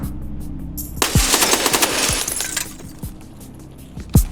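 Gunfire in Escape from Tarkov: a rapid burst of automatic shots with glassy crackle, followed by a few spaced single shots, loud and close.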